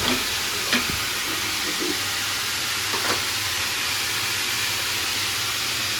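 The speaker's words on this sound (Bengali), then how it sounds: "একটু করলা ভাজি করলাম লাল লাল করে" Bitter gourd fries in a pan with a steady, close sizzling hiss, broken by a couple of brief stirring clatters early on.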